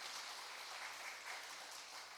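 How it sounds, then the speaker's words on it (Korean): An audience at a residents' general meeting claps together in a dense, steady burst of applause, fairly faint and heard from across the room. "박수로 한번 환영해 주십시오"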